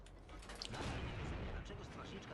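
A heavy, booming Black Prince tank cannon blast in a video game, with a rumbling low-end tail, followed by sustained battlefield noise; dense, with no voices.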